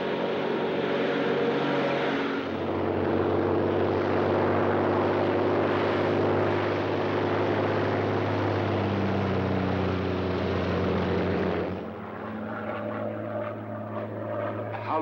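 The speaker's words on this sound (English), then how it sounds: "a Royal Air Force plane is waiting for us at a secret landing place." A Royal Air Force propeller plane flies through a 1940s film scene. Its engines make a loud, steady drone that fills the whole stretch and dips slightly in tone near the end.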